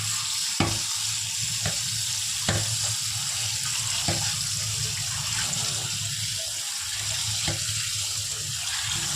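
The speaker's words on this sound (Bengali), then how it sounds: "আমি এখন বাঁধাকপি ধুয়ে সোজা প্রেশার কুকারে দিয়ে দেবো" Cabbage is washed under a running kitchen tap, a steady broad rush of water with a few sharp clicks and knocks of handling scattered through it.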